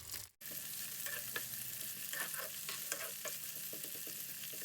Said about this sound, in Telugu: ఆయిల్ హీట్ అయిన తర్వాత మనం ముందుగా గ్రేవీ కోసం ఈ ఆనియన్స్ని వేయించేద్దాము